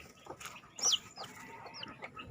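Five-day-old chicks are put together into one group and let out soft, high cheeps, with a few brighter peeps, at close range in an otherwise quiet setting.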